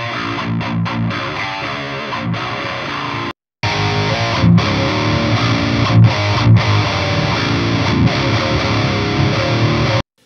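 A recorded distorted electric guitar riff without the plugin plays loud and unaccompanied by talk, with choppy rhythmic chords, a brief silent break near three seconds, then the riff resuming.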